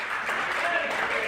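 A church congregation claps during a sermon on faith, a dense burst of applause throughout, with voices mixed in.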